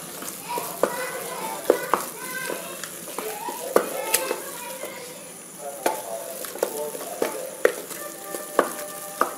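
Turmeric and garam masala sautéing in a pan for Cochin-style beef rice, with a soft sizzle under repeated scraping and clinking stirs, a few sharp knocks against the pan, and children's voices faintly in the background.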